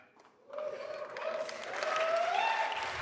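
Audience applause at a game launch livestream for Destiny's Final Shape, a broad wash of clapping rising from quiet after half a second and swelling louder toward the end, with a voice faintly mixed in.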